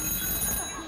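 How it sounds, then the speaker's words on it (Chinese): A telephone rings with a bright, trilling electronic bell, loud and near, its tone sustained across the short moment. "电话来了"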